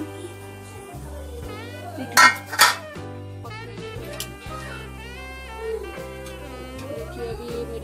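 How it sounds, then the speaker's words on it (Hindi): Opening a pressure cooker of steamed idli brings metallic clinks and clatter of the lid and pots, with two sharp clangs near the middle and lighter handling sounds throughout. "अपना ये कुकर ओपन करते हैं,"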